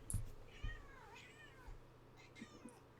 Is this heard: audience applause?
no